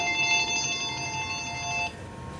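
A telephone rings in a workshop with a steady electronic trill that stops abruptly after about two seconds, heard clearly over low room noise with no talking.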